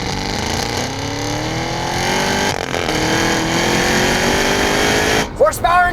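Manual Cadillac CT5-V Blackwing with a supercharged 6.2-liter V8, a loud, close engine holding a rising rev with climbing harmonic whine, then a quick blip and a sharp rev-matched downshift at the end.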